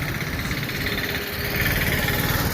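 A motorbike engine runs steadily while riding through the market streets of Jaipur, a close, continuous mid-range drone with a slight rise in level toward the end.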